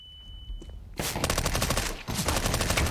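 MP5 submachine gun fire in a Counter-Strike match on Dust2: after a quiet start, dense rapid automatic bursts ring out close and loud for two seconds, broken by a short gap.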